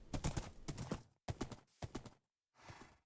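A horse's hooves in Minecraft clip-clop in short bursts of steps separated by brief silences, close and crisp, with no other sounds.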